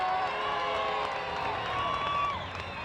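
Crowd noise at a 1978 New Jersey high school ice hockey tournament at South Mountain: a continuous murmur of spectators with scattered shouts and some clapping in a large rink, with an announcer talking.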